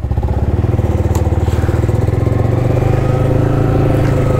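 Motorcycle with an aftermarket exhaust being ridden, a loud, close, rapid throbbing exhaust note that holds steady throughout, with no speech.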